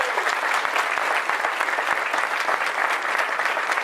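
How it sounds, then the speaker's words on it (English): An audience at a governor's wind supply chain announcement gives legislators a steady, dense round of applause that fills the whole stretch at even loudness, with no voices over it. "Let's give them a big round of applause as well"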